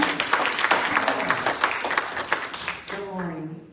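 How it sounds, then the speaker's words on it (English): A church congregation at a Baptist church anniversary service claps hands in praise, with brisk, close rhythmic clapping, before a voice speaks near the end. "give God a hand clap of praise"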